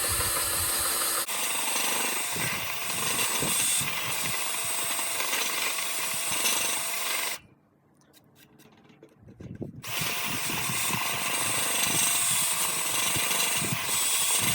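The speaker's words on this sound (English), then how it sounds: "This is option 2, which is a speed drill press." A drill press grinds continuously at close range while drilling a hole, stopping briefly midway for a few seconds of near quiet before resuming just as loud.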